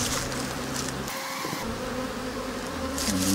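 Honey bees swarm around a Flow Hive in Eumundi, Australia, giving off a continuous close buzzing drone whose pitch wavers as individual bees pass near.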